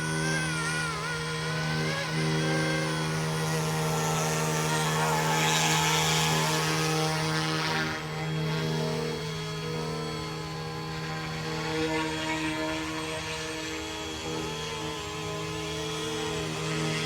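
A Wolfbush AW-911 RC helicopter comes in to land, its steady buzzing rotor whine holding a constant pitch, with a brief swell in the middle as it drifts closer before settling again.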